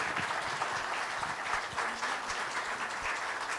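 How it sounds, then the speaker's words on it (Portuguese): An audience applauds after a talk, a steady, dense clapping that holds at moderate loudness throughout with no voices over it. "Mais aplausos para Cris Guerra."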